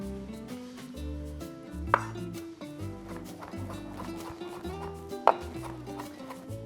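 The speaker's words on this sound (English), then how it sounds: "Amazing fresh mint. Now we're gonna chop that." Knife chopping fresh mint on a board in a rapid, rhythmic series of close, crisp strikes, with a couple of louder knocks among them.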